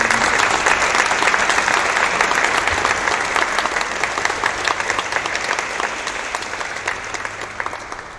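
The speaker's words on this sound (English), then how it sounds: "Please give them a big round of applause." A large audience claps steadily after a performance of Lenten hymns and motets at a museum of Christian art in Old Goa. The dense, sustained applause starts loud and slowly fades over several seconds.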